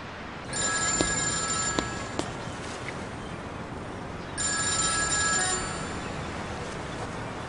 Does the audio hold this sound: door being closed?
no